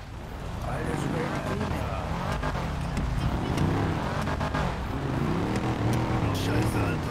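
Ford Mustang with a 360-horsepower engine, a deep rumbling engine note that revs and swells repeatedly nearby, with people talking over it.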